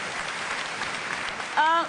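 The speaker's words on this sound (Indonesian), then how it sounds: "Tepuk tangan dong" Studio audience applauding at a televised Indonesian talk show, a steady dense patter of many hands that ends with a brief voice rising over it.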